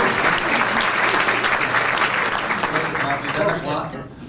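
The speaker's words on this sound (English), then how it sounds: "How about giving yourselves a round of applause for being here this morning," Audience applause fills an awards ceremony hall, a dense, steady wash of clapping from many hands that holds loud throughout and fades slightly near the end.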